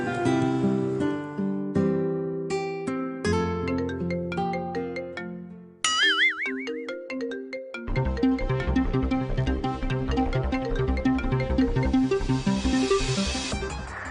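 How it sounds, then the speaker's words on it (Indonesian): A phone ringtone plays as a bright, repeating electronic melody in steady phrases, shifting partway through to a denser, fuller tune that rings continuously and loudly with no voices over it. "Telepon Adita"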